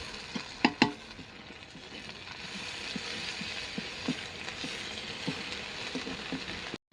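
Ginger garlic paste hits hot oil with chopped onion for a potato and prawn curry, a soft continuous sizzle broken by a few sharp spoon clacks and scraping stirs against the pan.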